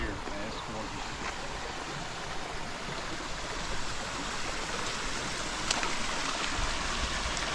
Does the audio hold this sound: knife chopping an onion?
no